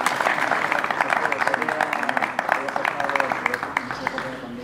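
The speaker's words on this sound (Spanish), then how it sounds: "Un aplauso." Applause at a town hall reception for an army engineer company in Villarino de los Aires, a room of people clapping in uneven bursts with voices talking underneath.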